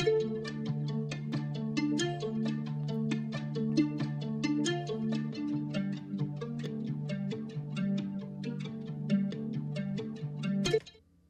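A lower, warmer plucked guitar pattern cycles steadily with quick repeated notes, playing alone at a moderate level before stopping abruptly.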